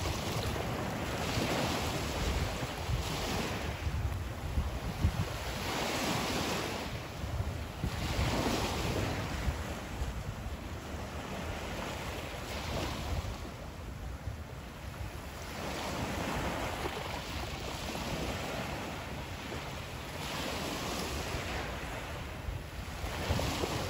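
Ocean waves roll onto a beach on Keewaydin Island in steady surges, mixed with continuous wind buffeting the microphone, loud and close with no talking.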